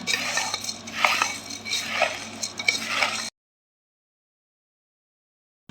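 Spoon stirring a crunchy poha snack mixture with coriander in a pan, a busy, steady rustling and scraping for about three seconds before the sound cuts to silence.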